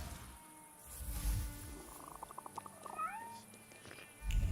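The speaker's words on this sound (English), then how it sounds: "I hear a cat. Where is it?" A cat meows in the video game The Thaumaturge, a few short mews and a soft purring trill heard close against a quiet background, with no talking.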